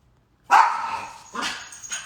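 A dog barks three times in quick succession, close and loud, each bark sharp and slightly trailing off.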